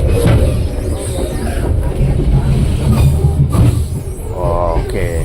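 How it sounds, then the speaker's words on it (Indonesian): A local Merak passenger train rolls into Jambu Baru station, a loud, steady rumble of wheels and carriage noise with rhythmic clatter and a brief squeal of wheels near the end, heard from inside the train. "Kita masuk ke stasiun Jambu Baru."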